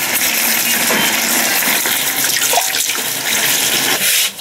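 Running water pours steadily while a copper home-brewing kettle is rinsed clean, a loud continuous gushing splash with no pauses.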